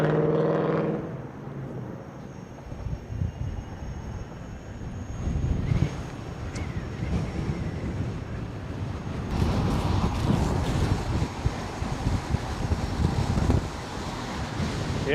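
Strong headwind roaring across the microphone while riding a KingSong 18XL electric unicycle, a loud, buffeting rush that swells and gusts throughout with no clear voice.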